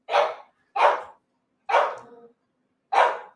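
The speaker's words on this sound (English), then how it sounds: "My dog is now barking for no reason." A single dog barks four times, loud and close, each bark short and sharp with clear gaps of silence between them and no voices.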